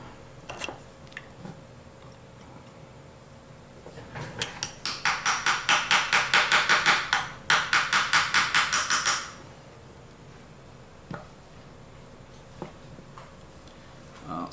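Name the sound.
tapping out a stuck part of a high torque motor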